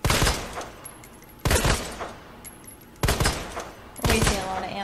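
Four loud gunfire bursts from Resident Evil 2 Remake come at roughly regular intervals, each a sharp blast followed by a brief fading tail.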